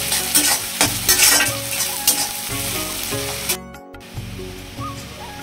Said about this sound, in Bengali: পেঁয়াজগুলো এখন ভালো করে লাল লাল করে ভেজে নেবো।